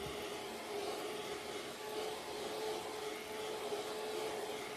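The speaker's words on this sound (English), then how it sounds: "I'm just gonna use a fan just to speed up the process" An electric fan runs steadily close by, drying toner on a face, a constant even whooshing hum with a faint tonal whine and no talking.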